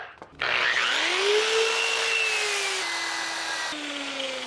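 An electric sander with coarse 40-grit paper spins up on a rough chunk of fresh sawmill wood, giving a loud, close, continuous abrasive whir with a whining motor tone that rises, then dips slightly under load.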